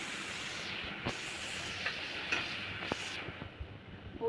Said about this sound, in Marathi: आता याला तेलामध्ये मसाले परतून घेते